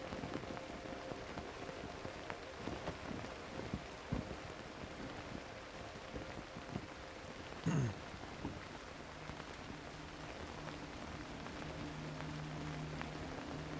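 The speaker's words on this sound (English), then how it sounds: "I personally love the sound of rain hitting the canvas of a tent" Steady patter of rain drumming on tent canvas in the video game Cairn, a dense continuous hiss with scattered louder drops and a brief sharper knock partway through, heard alone without any voices.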